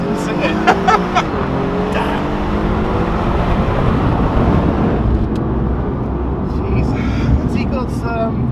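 A Ferrari launching hard with launch control, its engine roaring loud and steady throughout with rising revving tones, while several people talk and exclaim excitedly over it.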